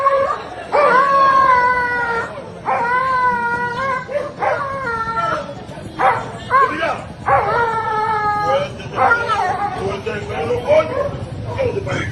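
A dog that has just been bitten yelps and howls in repeated rising and falling cries, close and loud, with whimpers in between and rough background noise throughout.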